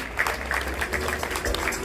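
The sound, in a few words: audience clapping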